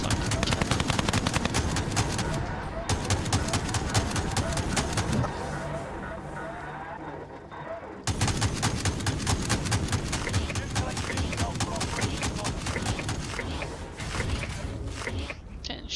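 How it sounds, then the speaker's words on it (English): Rapid, sustained gunfire from Call of Duty Warzone crackles in dense bursts nearly throughout, with a brief lull in the middle before the shooting resumes at full intensity. "Getting shot from somewhere, John."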